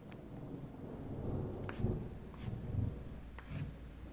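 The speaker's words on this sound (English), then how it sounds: "the sound of thunder outside draws closer." Thunder rumbles low and heavy outside during a night storm, with several rolling swells under a steady wash of rain, distant but drawing nearer, with no voices.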